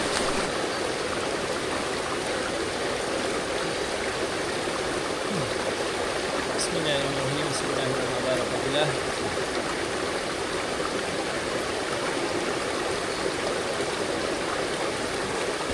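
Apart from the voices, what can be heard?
jungle stream flowing on Gunung Tahan trail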